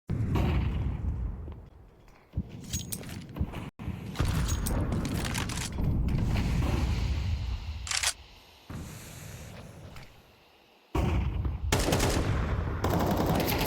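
Rapid gunfire bursts and shots in a Counter-Strike pistol-round match at a BLAST Premier esports event, loud dense volleys with brief pauses between exchanges.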